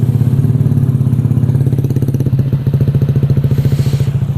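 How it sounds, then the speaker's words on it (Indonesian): Honda Vario 150 scooter fitted with a ProLiner aftermarket exhaust, idling loud and close with a steady deep pulsing thump and rhythmic throbbing that never lets up. "yang mau mendengarkan knalpotnya gimana. Silakan dengarkan, oke?"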